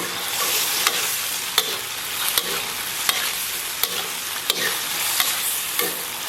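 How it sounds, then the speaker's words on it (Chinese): Potatoes fry in hot oil with tomato and seasonings while a utensil stirs and scrapes the pan at a steady rhythm, the loud sizzle continuous underneath the regular clicks. "利用高油温，然后把这个土豆给它下里边"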